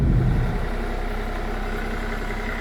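A 2015 Honda Civic, run after sitting for a couple of weeks, idles in a steady, even low hum, close by with no voices.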